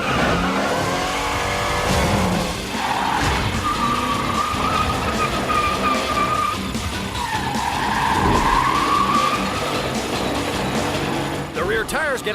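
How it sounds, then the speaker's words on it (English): A Chevrolet Camaro does a smoky rear-tire burnout, its engine revving hard while the tires squeal loudly and continuously, with a sharp pitch rise near the end. "Our Camaro should raise some serious smoke and hopefully raise the temperature of the tires to their flash point."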